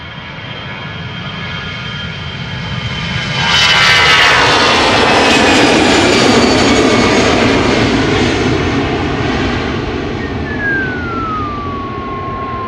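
Delta Airbus A350-900 jet airliner passing overhead, a loud broadband engine roar that swells after a few seconds and holds, with a thin whistling tone sliding downward as it moves away; no speech.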